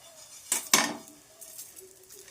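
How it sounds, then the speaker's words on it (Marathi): Coriander seeds tipped into a pan where peanuts are roasting, heard as two quick metallic clinks of a spoon on the pan, then faint scraping in a quiet kitchen. "आता आपण थोडेसे धने टाकून घेणार"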